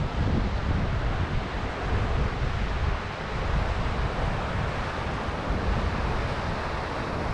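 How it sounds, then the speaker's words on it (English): Heavy winter sea surf pounding the Scottish coast under strong wind, a loud continuous roar with surging swells and buffeting wind noise on the microphone; no voices. "Whoa, look at the size of these waves."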